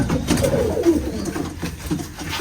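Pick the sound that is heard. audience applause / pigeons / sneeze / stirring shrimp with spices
pigeons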